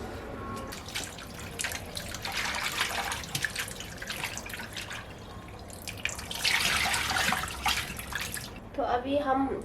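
Hot water is poured off into a sink while a potato soup is being made, giving a steady splashing and gushing stream with a brief louder burst partway through.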